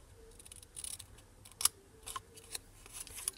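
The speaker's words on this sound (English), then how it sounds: "So just cut those little tiny pieces away on both sides" Scissors snipping small pieces away from patterned designer paper while making a double nail file holder, a few quiet, sharp cuts at irregular intervals in a hushed room.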